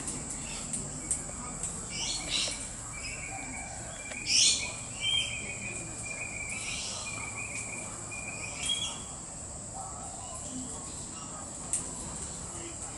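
A pair of king parrots gives scattered, fairly faint calls and chirps at irregular intervals over a steady hum of insects and outdoor background noise.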